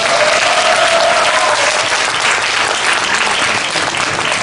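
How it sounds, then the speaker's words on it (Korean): Dense, steady applause from an audience welcoming a trumpet player at a university freshman welcome event held in an army hall, with a faint sustained tone early on and no speech. "큰 박수 한번 부탁드립니다"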